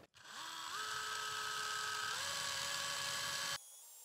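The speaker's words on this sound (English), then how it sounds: "I use straight brush on my drill and I angle it the same angle as the knurl" A small power drill with a straight wire brush whirs steadily, its pitch stepping up and holding as it scrubs the metal knurls of a Cincinnati No. 2 tool and cutter grinder, then cuts off abruptly.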